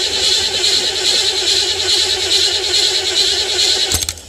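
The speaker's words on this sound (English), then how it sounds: "Well, the battery is starting to weaken. I hope this old car will start for me." An old car with a weak battery cranks over and over in an even, labored rhythm without catching, then stops abruptly with a click.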